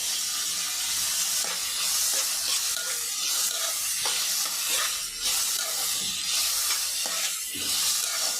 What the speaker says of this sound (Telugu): అల్లం వెల్లుల్లి ముక్కలు కొంచెం పచ్చివాసన పోయే వరకు వేయించుకోవాలి